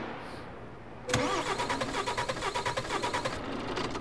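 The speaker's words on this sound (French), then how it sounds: "Bon, le camion démarre pas." A Renault truck's engine in Euro Truck Simulator 2 cranks and catches after a quiet second, settling into a steady pulsing diesel idle with a regular rhythmic chug, fairly close and with no talk over it.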